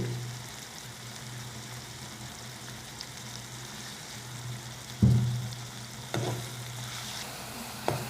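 Onion and green chili frying in a pan make a steady, moderate sizzle throughout. A few sharp spatula knocks sound against the pan near the end, and nobody speaks.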